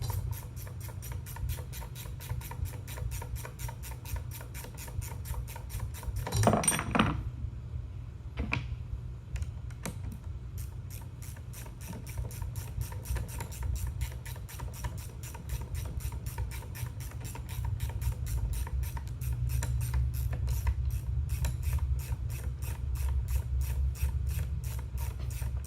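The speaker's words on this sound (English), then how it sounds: "Just hold on to it and run this top nut off." A ratchet wrench runs the top nut off a leaf spring center pin bolt, the fine thread giving a long steady train of rapid clicks, close and continuous, with a brief louder clank partway through and no talk.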